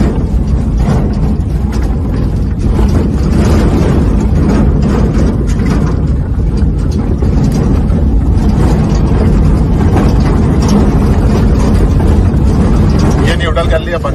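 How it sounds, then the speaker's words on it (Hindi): A vehicle coasting downhill in neutral makes a loud, rough mechanical drone, rolling along continuously with a voice talking over it. "न्यूट्रल में बहुत आवाज कर रही है, न्यूट्रल में चल रही है अपनी गाड़ी क्योंकि ढलान है"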